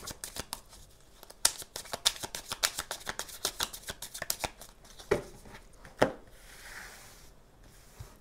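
Tarot cards being shuffled and drawn, a run of quick papery riffles and flicks followed by a few sharper snaps as single cards are laid down, close up and with no speech.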